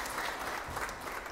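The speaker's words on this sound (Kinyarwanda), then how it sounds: "Nakongeye Imana amashyi menshi cyane." Sustained applause from a congregation at a church service, a steady dense patter of many hands clapping at moderate loudness with no voices over it.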